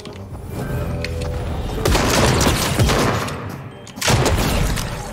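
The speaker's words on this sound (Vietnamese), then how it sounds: "Các bạn thấy uy lực của khẩu pump không? Pump bắn gần đau lắm anh em ạ." Heavy pump shotgun blasts in Fortnite at close range, arriving as loud booming shots amid busy battle noise with brief pauses between them.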